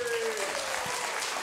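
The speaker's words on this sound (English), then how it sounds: "Give them a round of applause." A crowd at the Young People's Book Prize 2018 event breaks into applause, a brief wash of many hands clapping that fills the whole moment at a steady, fairly loud level.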